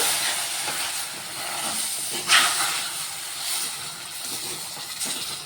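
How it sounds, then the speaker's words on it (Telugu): Milk poured into hot fried semolina in a pan gives a steady loud hiss and steamy sizzle, broken by a few small clicks and scrapes, with no one talking. "ఇప్పుడైతే ఇందులో పాలు పోస్తున్నా"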